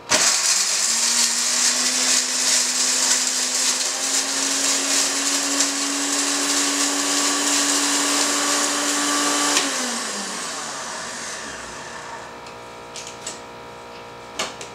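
A kitchen blender runs on speed setting 1, a loud steady whirring drone with a constant motor pitch for about ten seconds, then switches off and winds down, followed by faint clicks and quiet handling.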